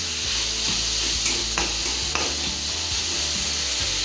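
Chowmein vegetables stir-fried in a pan over high gas, a continuous sizzle with scraping spatula strokes and occasional clacks against the pan, close and steady, no talking.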